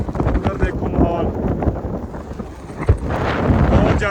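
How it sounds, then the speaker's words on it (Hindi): Strong wind buffets the microphone on a mountain pass in Zanskar, a loud rushing roar that gusts and swells throughout, with no one talking. "बहुत ज़्यादा तेज हवा है"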